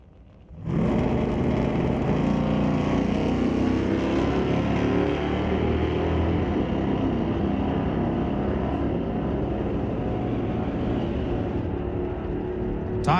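A 1968 Chevelle at an old-time drag racing strip roars in and holds a loud, steady, broadband engine drone for the whole run, close and dominant with no voices.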